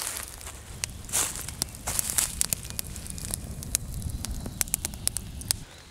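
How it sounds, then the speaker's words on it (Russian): Rain falling on a tent pitched in a forest during an overnight solo hike, a close, irregular patter of crackling drops and sharp taps over a soft, steady rustle. "Пошел дождь, я успел залезть в палатку."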